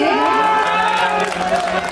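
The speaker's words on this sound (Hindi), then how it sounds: "देखो जोरदार ताली बजा दीजिए जी" Loud crowd cheering, whooping and applause fill the air at a Bhojpuri stage show in Bhaptiyahi, Supaul, a dense continuous roar that slowly thins near the end.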